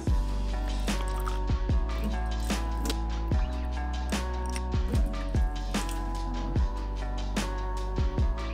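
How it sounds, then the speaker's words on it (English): Hot water poured into tea glasses, giving repeated drips and splashes in an uneven rhythm over a steady low background hum, close and fairly quiet. "put hot water in the glasses to kind of warm them up"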